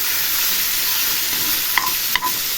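Onions cut into half-rings fry steadily in a pan, a dense continuous sizzle with a couple of brief clicks from stirring near the end, no voices.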